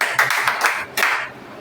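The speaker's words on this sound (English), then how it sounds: "Clap for yourself again." A group of students clapping for themselves in a classroom, several quick bursts of close hand claps over about a second and a half, fading out at the end.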